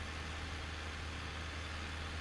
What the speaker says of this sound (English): I'm just running the tractor out here to see if there's anything else.